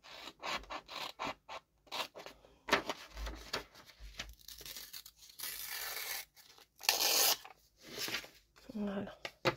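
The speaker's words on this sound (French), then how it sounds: "je vais couper avec des vrais ciseaux" Real scissors cutting through paper in bursts of snipping and tearing, close and fairly loud, with pauses between cuts; a person talks around the cutting.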